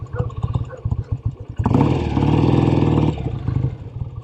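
A motorcycle engine runs while being ridden and shifted through gears, loud and near, rising sharply in a strong, sustained drone after a quieter stretch of idling mixed with talk.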